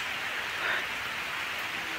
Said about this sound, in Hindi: कितनी अच्छी बारिश हो रही है